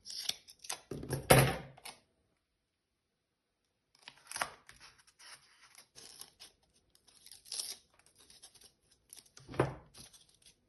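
Double-sided adhesive tape is peeled and torn in short crackling bursts, close and quiet, with scattered rustles and pauses in between.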